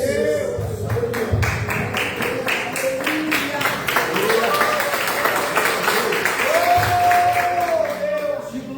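A church congregation claps after a sermon on Jesus's words to a forgiven woman, steady rapid applause throughout with voices speaking and calling out over it.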